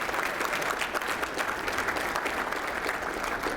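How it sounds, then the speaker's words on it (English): A crowd claps steadily throughout at a men's soccer awards banquet, a dense, even round of applause filling the room without pause. "Give your guys a round of applause"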